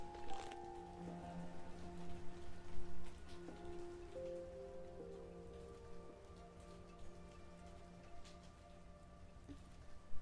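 Steady rain pours down in the Minecraft video game, a continuous hiss of drops on surfaces with faint tonal game music underneath, no talking.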